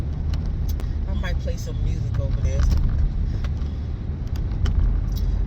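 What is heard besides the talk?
car interior, riding in a car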